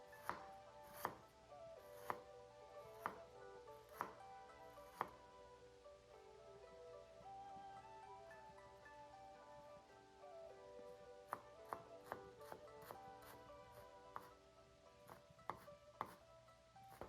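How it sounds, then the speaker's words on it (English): Knife mincing ginger root on a cutting board, sharp isolated chops spaced about a second apart, then a quicker cluster of taps later, quiet and close. "Mince 1 teaspoon of ginger root."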